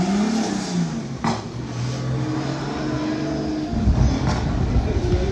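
BMW E36 drift car powered by a 1JZ engine at a drift practice session, its engine droning and revving steadily with a louder, rougher surge near the end, under commentary and crowd noise.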